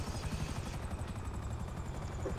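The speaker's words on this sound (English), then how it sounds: "What's that noise? Is that a fucking helicopter?" Helicopter in the video game GTA, its rotor thumping steadily and fairly loud throughout with a continuous whirring drone.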